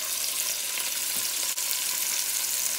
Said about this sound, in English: Place your salmon up in the skillet.